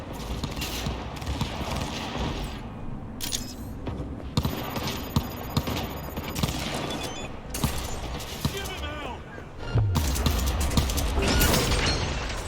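Gunfire in the video game Cyberpunk 2077: repeated shots and booms among a dense, busy mix of in-game mechanical clatter and impacts, steady and loud throughout with a heavier rumble near the end.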